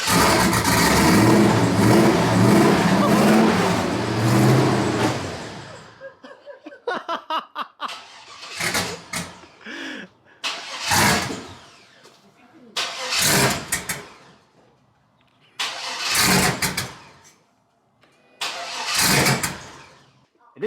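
A Chevrolet Silverado with a 5.3L V8 and headers starts up and idles loudly, then gets several sharp revs in regular bursts with short pauses between, close by.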